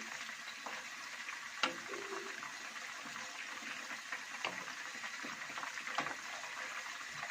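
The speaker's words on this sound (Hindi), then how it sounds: "अब 4 मिनट ही हम इस साइड से भी इन्हें फ्राई करेंगे" Spicy Lahori-style fish fillets fry in oil, giving a steady, moderate sizzle with scattered pops and a few louder crackles, close by and with no speech.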